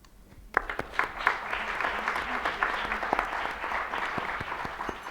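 Audience at a world congress on justice with children breaks into applause, a sustained moderately loud clapping that rises sharply after a quiet start and carries on steadily with a few sharper individual claps.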